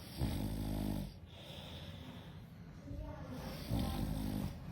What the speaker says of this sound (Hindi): ये कुछ इस तरह से खर्राटे लेता है